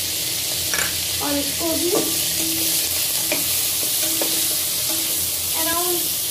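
Chopped bell pepper (capsicum) sizzles in a frying pan on top of onions that are already fried, a steady loud hiss that runs the whole time. A spoon stirs and scrapes the pan now and then, and a voice speaks briefly in Hindi over the frying.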